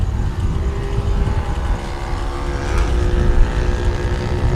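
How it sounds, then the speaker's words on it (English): A race-spec TVS Apache RTR 200 motorcycle engine at a 2021 national motorcycle championship race drones continuously and loudly. A brief rising and falling pitch sweep near the middle suggests a bike passing. "What an experience it might be to ride the race spec TVS Apache RTR 200."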